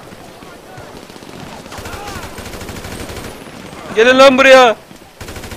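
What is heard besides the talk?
gunfire in video game GTA 5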